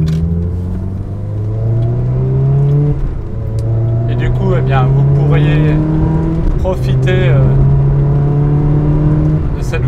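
A Ferrari 360 Modena engine drones loudly and close, its pitch climbing through several rising pulls with brief dips between them as it revs and shifts, while someone speaks over it.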